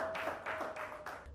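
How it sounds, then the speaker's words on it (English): Audience clapping at a church family life gathering, a few quick bursts of claps that come and go at a fairly soft level. "please clap for me"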